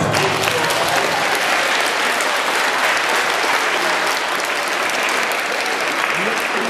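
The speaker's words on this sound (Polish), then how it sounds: "duże oklaski dla wszystkich" A room full of participants at a Warsaw class meeting bursts into loud, dense applause that stays steady and full for the whole stretch, close and alone with no talk over it.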